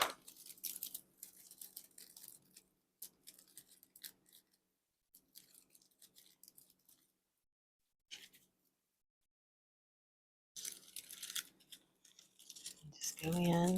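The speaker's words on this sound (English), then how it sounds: "Snip it with my wire cutters." Wire cutters snip wire during a wall sconce makeover, giving sharp clicks and short scraping bursts in scattered clusters, with quiet gaps between them.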